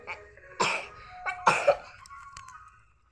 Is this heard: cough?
yes